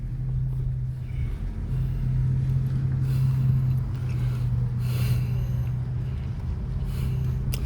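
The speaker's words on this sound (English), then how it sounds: "That's Dr. Suttle's car" A modest car passes nearby, its steady low engine rumble and road noise filling the whole stretch at a fairly constant level with no voices.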